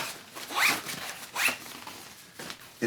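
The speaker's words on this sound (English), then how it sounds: "when you zip the expansion joint closed" A zipper runs along the expansion joint of a packed Series 2 Knack Pack travel bag, pulled in two or three quick rasping strokes at close range, with no voices present.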